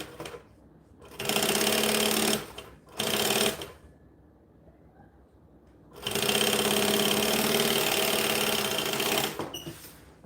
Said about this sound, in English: Sew the base on.